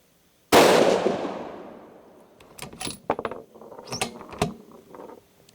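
A single loud, sharp 6mm Creedmoor rifle shot from a Howa 1500 cracks close by and rolls into a long fading echo, followed by scattered clicks and rustling handling noise.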